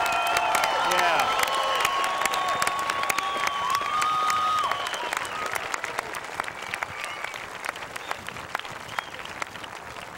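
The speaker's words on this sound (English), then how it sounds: "how about a round of applause for the class of 2003?" The crowd at a 2003 South St. Paul graduation gives the graduating class loud, continuous applause mixed with cheers, whoops and shrill whistles. The whistling and shouting are strongest in the first half, then the clapping carries on steadily.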